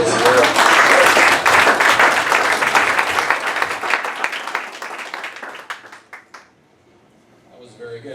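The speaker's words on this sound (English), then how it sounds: "let's give a round of applause." Audience at an investor pitch event applauds loudly and steadily, the clapping fading out over several seconds before near silence and faint voices.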